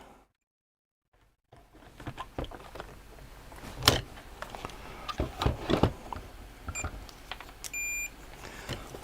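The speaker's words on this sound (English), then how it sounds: "Let's get the meter on continuity." A multimeter set to continuity gives short electronic beeps while probing the components of a Sony ICF-2001D radio, set among faint clicks and handling taps after a brief silence.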